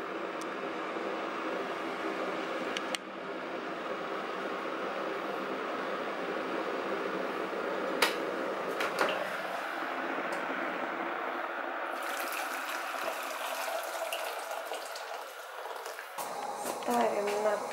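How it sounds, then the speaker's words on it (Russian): Water comes to a boil in a kettle in a home kitchen, giving a steady rumbling hiss with bubbling that grows busier toward the end, while someone talks over it. "она у меня уже вот закипает практически в чайнике"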